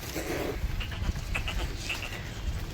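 A calf on a farm bleats in short, moderately loud calls a few times, over a steady low background rumble.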